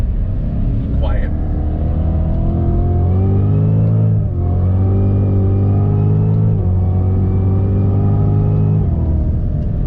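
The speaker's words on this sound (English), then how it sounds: "we're gonna do a slow roll on. First gear, on throttle." A Cadillac CTS-V Championship Edition pulls a slow first-gear roll-on under throttle, its deep, loud engine drone climbing in pitch with a couple of dips and climbs again, heard steadily up close with a brief voice early on.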